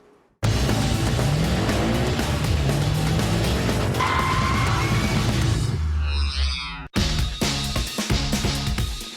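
Rally race cars on a 3,000-mile international rally roar loudly and continuously, with engines revving and tyres skidding, ending in a sudden cut and then a few revving bursts.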